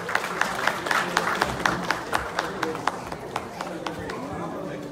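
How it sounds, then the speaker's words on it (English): A crowd at a Bangladesh Students Association of New York program gives a performer a big round of applause, with sharp, rhythmic claps standing out over a bed of crowd noise and chatter, tapering toward the end. "Big round of applause for Joy."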